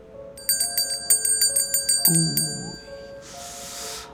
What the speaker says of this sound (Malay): Mana datangnya bunyi loceng tengah-tengah malam ni?